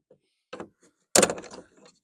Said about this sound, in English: We'll take the outer door panel off.